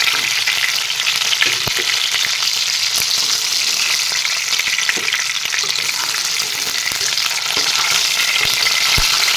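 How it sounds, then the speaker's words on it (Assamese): Fish pieces frying in hot oil for a curry with green peas give a loud, steady crackling sizzle, with occasional sharp pops and light stirring clicks, heard close up and alone. "এতিয়া মাছখিনি মোৰ ধুনীয়াকৈ ফ্ৰাই হৈ গৈছে।"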